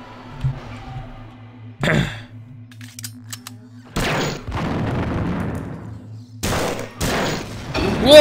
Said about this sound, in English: Nice rocket turret.